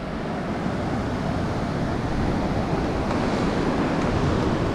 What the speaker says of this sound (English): So now I don't really hear me that much because of the sound of the wind.